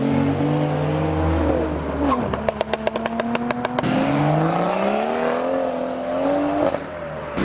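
A Nissan 350Z engine revs and shifts up close, with a burst of rapid popping crackles partway through before the roar carries on.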